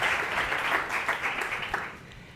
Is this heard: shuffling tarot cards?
no